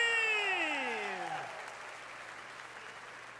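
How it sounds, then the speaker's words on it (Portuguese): Applause from a TV studio audience builds as a descending musical flourish fades, then the clapping continues steadily and moderately loud until the end. "Palmas para o Caio Castro do Soconinho"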